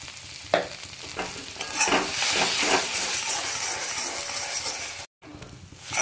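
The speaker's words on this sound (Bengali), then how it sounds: "এটা ভালো করে মিশিয়ে নেব।" A beet and carrot kachori filling, bound with chickpea flour, is stirred in a hot pan: a spoon scrapes and clatters in irregular strokes over a steady sizzling hiss, with a brief dropout near the end.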